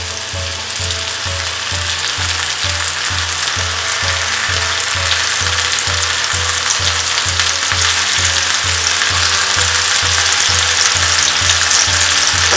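Four medium tomatoes cut into big chunks sizzle loudly and continuously in a hot pan for Nepali-style tomato achar, a close, bright frying hiss with a regular low pulsing hum beneath, no voices.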